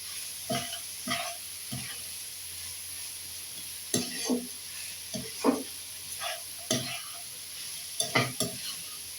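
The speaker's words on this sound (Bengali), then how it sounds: "এরপরে দিব আপনার সবুজটা, দিয়ে একটু নাড়বো।" Vegetables for fried rice stirred in a pan, with a series of distinct scraping and tossing strokes at irregular intervals over a quiet steady sizzle, heard close up.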